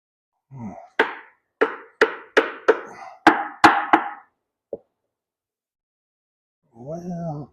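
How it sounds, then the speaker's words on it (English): Old foam is scraped out of a Nitro center console boat in about eight quick, sharp scraping strokes, close and distinct. A single faint tap follows, then a brief voice at the end. "I'll scrape the last of it out of there"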